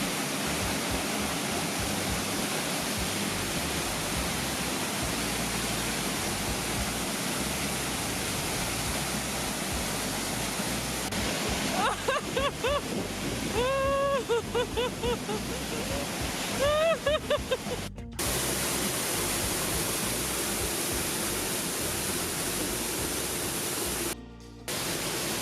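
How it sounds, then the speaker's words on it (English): Water pours from a dam wall into a blue river, a constant broadband rushing roar heard from a distance, with a few faint higher tones partway through. "the dam wall which was releasing water"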